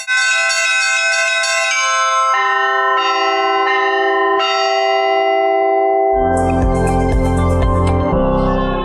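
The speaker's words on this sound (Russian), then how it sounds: "во всех храмах епархии зазвучали колокола" Church bells ring out at noon across a diocese in Khabarovsk, several bells struck in sequence with long ringing tones, then a denser, heavier peal with deep low clangs joins in, loud and sustained.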